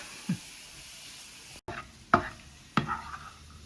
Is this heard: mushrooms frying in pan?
yes